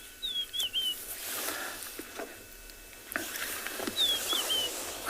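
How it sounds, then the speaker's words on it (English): A rufous-napped lark gives two short whistled phrases, separated by a few seconds, faint and distant over a quiet open-plain backdrop with soft patter and ambient noise. "I can hear a very nice melody of a rufous-napped lark."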